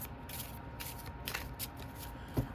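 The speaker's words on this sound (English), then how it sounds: "All right, a little bit more shuffling." A deck of tarot cards is shuffled by hand, overhand style with the cards kept straight, giving soft, irregular papery bursts and slides close by, with a sharper tap near the end.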